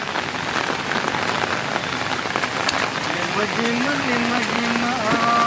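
Steady heavy rain pours down on a hard surface, a dense continuous patter with a droning tone rising toward the end.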